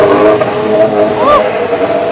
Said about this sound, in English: Warming up the car.